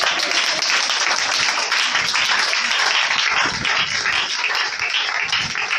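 A church congregation applauds together to acclaim the Lord during a sermon, producing dense, steady clapping that fills the whole stretch at an even, loud level.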